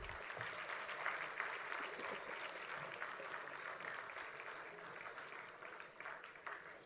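A convocation audience at the NMIMS School of Business Management in 2018 gives steady, even applause, a continuous wash of clapping heard at a moderate distance with no speech over it.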